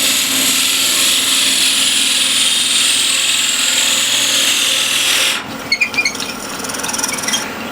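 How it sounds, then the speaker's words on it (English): A steady high whine of a Forstner bit on a lathe drilling out the center of wood runs continuously, then abruptly drops off into a few light knocks and scraping sounds. "I'm going to use a Forstner bit. Drill out the center."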